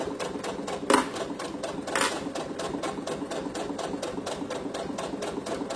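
A domestic sewing machine topstitches 0.5 cm from the edge of a fabric pouch pocket, running steadily with a fast, even mechanical chatter, close and clear, with two brief louder clicks early on.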